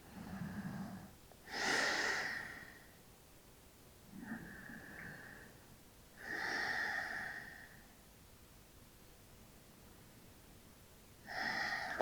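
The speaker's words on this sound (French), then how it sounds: "Profonde inspiration." Slow, deep breaths during a floor yoga stretch, with several soft inhales and exhales separated by quiet pauses. The breathing is faint and close, with no talking.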